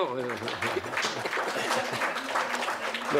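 A French audience applauds at a talk about pilgrims and couples in Alençon, a steady broadband patter of clapping running throughout while a voice talks over it.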